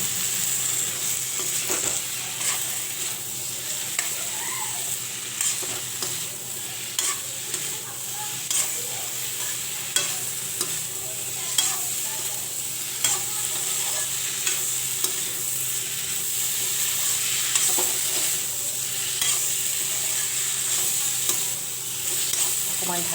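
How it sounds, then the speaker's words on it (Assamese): Cauliflower and potato frying and being stirred in a pan, a steady close sizzle with regular scraping stir strokes throughout, no talking. "অকণমান ভাজি পেলাই মই ইয়াত ফুলকবি আৰু আলুখিনি দি দিম।"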